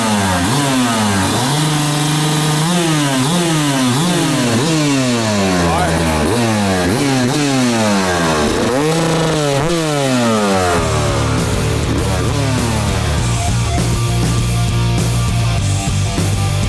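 A new Yamaha YZ250 two-stroke dirt bike engine revs up close: a run of sharp, rising and falling revs, then a steadier high-pitched hold near the end, with no talking.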